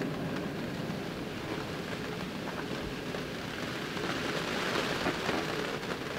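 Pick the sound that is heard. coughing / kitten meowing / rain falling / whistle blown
rain falling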